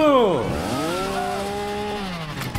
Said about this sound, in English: Alright, here comes the chainsaw.